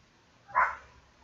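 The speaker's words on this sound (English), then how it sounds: "She's barking." Single dog bark, short and moderately loud against a quiet background.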